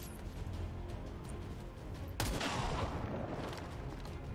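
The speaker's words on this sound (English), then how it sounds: "Take the shot." A single sharp rifle report from XCOM 2: War of the Chosen, fired from concealment, cracking out midway over a quiet game ambience and trailing into a brief rumbling decay.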